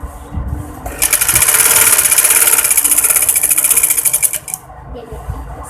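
A sewing machine runs close and loud, stitching a kurti in a steady, rapid mechanical whir for about three seconds, with soft handling noises before and after it.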